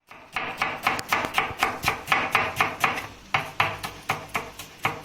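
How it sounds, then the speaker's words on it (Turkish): Steady rhythmic knife chops slicing onions thinly on a cutting board, about four per second with a brief pause midway, close and crisp with no talking. "Soğanlarımızı ince ince doğrayalım."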